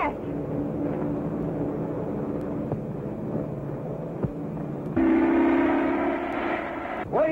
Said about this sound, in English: the hero tries to prevent two trains from colliding head-on.